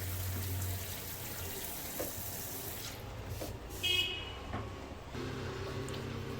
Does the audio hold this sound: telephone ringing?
no